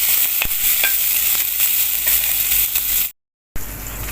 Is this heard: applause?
no